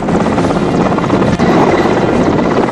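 A rescue helicopter over floodwaters drones loudly and steadily overhead, its rotor chop and engine roar filling the scene without a break.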